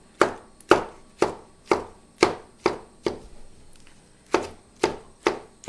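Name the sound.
chopping tomatoes with a knife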